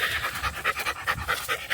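A basset hound panting hard and fast, quick rhythmic breaths in and out heard close up, steady and alone.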